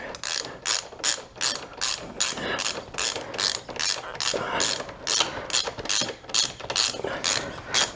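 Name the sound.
ratchet tightening Kawasaki KLR 650 centerstand bolts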